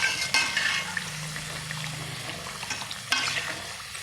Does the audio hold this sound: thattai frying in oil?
yes